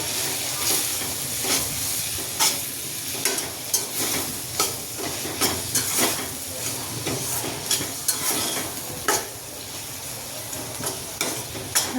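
Cabbage curry (Gujarati kobi nu shaak) with coriander-cumin powder sizzles in a pan while a spoon stirs it, giving a steady low fry under a series of soft, irregular scraping strokes with no talking.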